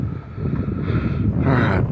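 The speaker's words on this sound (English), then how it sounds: "Yep, a little bit windy." Steady wind buffeting the microphone at a model aircraft flying field, a dense low rumble that swells louder toward the end, with no voices.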